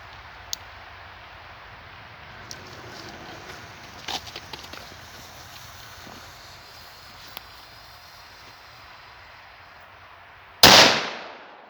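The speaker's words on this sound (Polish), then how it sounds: "No więc odpalamy pierwszą petardkę." Quiet outdoor background with a few faint snaps, then one sharp, loud firecracker bang near the end that rings out and fades.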